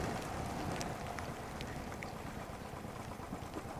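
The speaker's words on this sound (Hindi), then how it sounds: "Doesn't look like a passing shower now." Steady monsoon rain pours down on a ride near the Bombay–Goa highway, a dense, even hiss with scattered droplet ticks and no break, close and continuous throughout.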